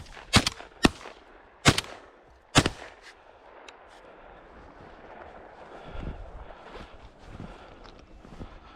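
Shotgun blasts ring out during a pheasant hunt at a bird ranch: four sharp, loud, close reports in quick succession in the first three seconds, then only gusty wind noise for the rest.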